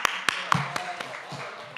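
A few sharp, separate claps from a small church youth-group gathering ring out unevenly, sparse and close, with faint room noise between them rather than full applause.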